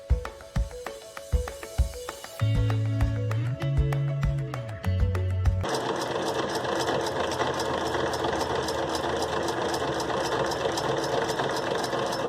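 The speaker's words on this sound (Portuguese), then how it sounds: "Agora eu preciso controlar para conseguir costurar essa linha reta." Sewing machine stitching a straight line, starting with a few slow individual stitches and tones and then settling into a steady, rapid mechanical whir that carries on close and loud to the end.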